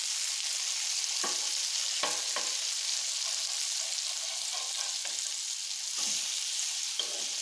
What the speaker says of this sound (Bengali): দু পিঠটা একদম সুন্দর লাল লাল করে ভাজা ভাজা করে নিতে হবে।